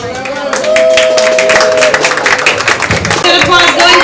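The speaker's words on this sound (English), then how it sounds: "Give it up for your next poet on the mic" An audience at a Pittsburgh poetry night claps for the next poet taking the mic, a dense patter of hands under a host's loud voice.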